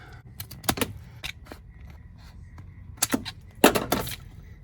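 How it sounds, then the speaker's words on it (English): Several crisp snips and cracking cuts of scissors through vinyl tile, close by, in two bursts separated by quieter handling sounds, with no talking. "I'll just get the scissors and cut it."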